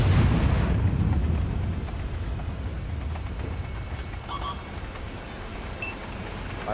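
Heavy explosive shell blasts from tanks in World of Tanks, a loud low booming impact at the start that rolls off into a rumbling battlefield din, with a few faint metallic clinks and distant shots.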